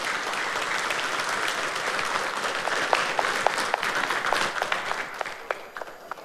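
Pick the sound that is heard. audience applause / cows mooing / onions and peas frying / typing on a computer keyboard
audience applause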